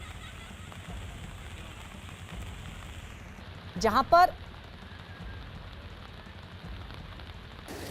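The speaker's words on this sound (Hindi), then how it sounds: "ऋषिकेश में भी लगातार बारिश हुई है" Steady rain falls in Rishikesh, a continuous hiss of drops on surfaces throughout, with a brief spoken phrase rising over it midway.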